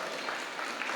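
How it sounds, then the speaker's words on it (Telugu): A rally audience in Dhone applauds, a steady dense wash of clapping that holds evenly throughout with no pauses and no voices standing out. "వారి గట్టిగా చప్పట్లు కొడదాం."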